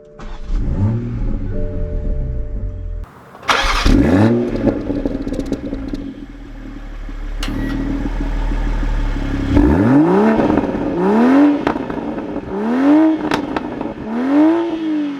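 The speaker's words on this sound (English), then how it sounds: "Let's take the Supra out and see how it drives." A 2021 Toyota Supra 3.0 Premium pulls away and accelerates, its engine note climbing through several gear changes in repeated rising sweeps, loud and close, with no voices.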